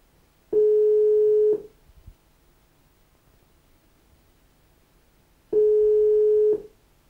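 Two spaced tones on a telephone line ring out on a Romanian talk-radio call that goes unanswered, each steady beep lasting about a second, with long quiet gaps between them and no voices.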